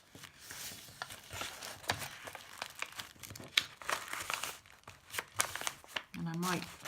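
Pre-stamped paper handled at a sterling silver jewellery workbench, a run of soft close crinkles, rustles and taps, followed by a brief spoken word at the end.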